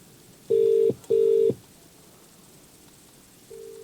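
Two loud electronic beeps from a phone's volume button, played through a cheap Bluetooth car kit added to a Fiat 500 Pop, each about half a second long with a short gap between, then a fainter tone starts later.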